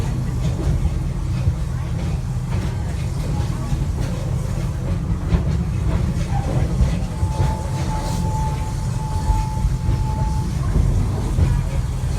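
A Busch Gardens amusement park train rolls along its track with a steady, loud rumble and a faint clickety-clack. A thin tone rises briefly midway, and people talk over the noise.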